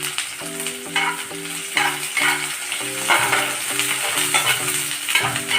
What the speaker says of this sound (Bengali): এটাও কিন্তু বেশ আমি ব্রাউন করে কিন্তু ভাজবো